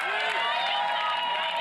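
Crowd cheering and clapping as a triathlete runs to the finish at the Gold Coast T100 Triathlon, a steady wash of cheers under commentary.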